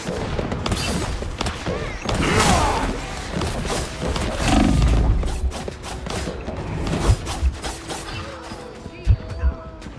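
Video game gunfire crackles in loud, dense bursts and sharp cracks throughout, mixed with heavy thuds and roaring game effects, with speech heard over the action.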